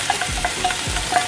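Onion is dropped into hot olive oil in a pan, frying with a dense, steady sizzle and a few low stirring thumps over just over a second, up close.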